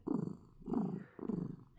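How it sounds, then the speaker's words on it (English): A contented house cat purrs in three long rhythmic cycles, a steady low rumbling loop rising and falling close to the listener with no talking over it. "You hear those purrs?"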